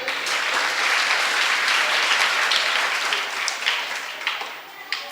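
An audience at a Hindi religious sermon bursts into sustained applause, a dense wash of clapping that stays fairly steady and then thins out toward the end with a few sharper individual claps.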